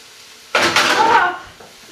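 While onions cook for a lamb shepherd's pie, a stirring spoon slips in the pan and gives one loud clattering scrape lasting about a second, then the pan settles back to quiet.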